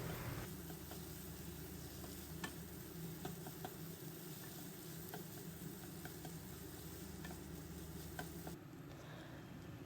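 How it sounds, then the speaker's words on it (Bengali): Spices frying in a pan for potol dorma filling give a faint, steady sizzle, with occasional light ticks from stirring. "সব মশলাগুলো দিয়ে ভালো করে ভেজে নেব"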